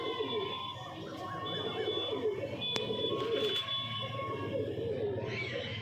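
Madras pigeons in a home loft coo in low, throaty rolls close by, a few phrases over a steady background hum, with a brief sharp tap partway through.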